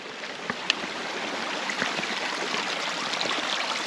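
A clear mountain stream in Snowdonia flows steadily nearby, a continuous broadband rush of water with a few faint clicks and splashes, no talking.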